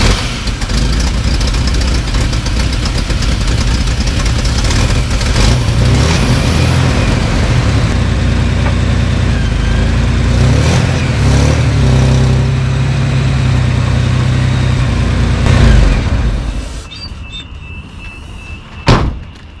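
A loud old Toyota FJ60/FJ62 engine idles and rumbles close by, revving slightly as it moves, then cuts off near the end, followed by a brief clunk.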